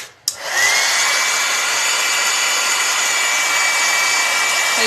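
A hair dryer drying paint on a paper lantern: switched on with a click, then a loud steady whooshing blow with a constant whine, continuous and close.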